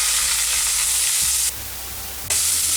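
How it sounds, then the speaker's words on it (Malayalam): Cumin seeds and chopped onions hit hot oil in a pan for a vegetable samosa filling, giving a loud, steady close sizzle that surges briefly brighter midway, with a few soft stirring knocks. "ഈ ജീരകം ഇട്ട് ഉടനെ തന്നെ ഈ സവാള കൂടി ഇട്ട് വഴറ്റിയെടുക്കാം"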